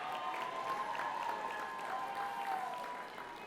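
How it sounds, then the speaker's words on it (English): A crowd at a football club best and fairest awards night claps and cheers steadily for several seconds, a broad wash of applause that eases slightly toward the end. "That'll give me a cheer."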